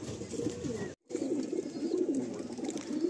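Madrasi tournament pigeons cooing in low, repeated throaty bursts that run almost without pause, with one brief silent gap near the start.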